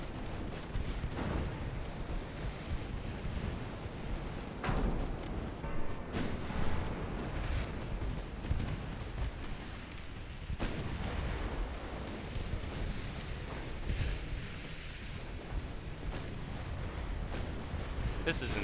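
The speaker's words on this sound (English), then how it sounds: "Oh, there goes the barrage." Naval guns from a dreadnought-era fleet boom in the game Ultimate Admiral: Dreadnoughts, a dense rumbling barrage of overlapping blasts that runs continuously with someone talking over it.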